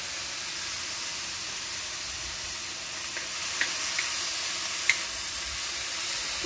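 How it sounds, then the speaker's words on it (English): Chicken and mushroom stir-fry steadily sizzles and steams after chicken stock is added, cooking on a Kamado Joe Junior grill; a constant broad hiss with a few faint pops and crackles, no talking. "Might just want to add a little bit of chicken stock just to help it steam."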